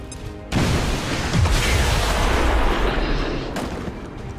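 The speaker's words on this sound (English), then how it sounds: "secondary explosion killed the guy" A loud explosion in a war strategy video game erupts suddenly, a dense broadband blast with a deep rumble that holds for about three seconds before dropping away.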